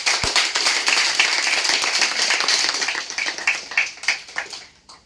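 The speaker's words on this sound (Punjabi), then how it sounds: "ਇੱਕ ਵਾਰੀ ਤਾੜੀ ਮਾਰ ਦਿਓ" An audience at an agricultural products seminar clapping, brisk and dense at first, then thinning into scattered claps before fading out.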